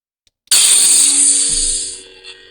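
Saberforge Bane MK II neopixel lightsaber with a Golden Harvest v3 board ignites abruptly into a bright humming whine, holding steady and then fading over a couple of seconds, close and alone.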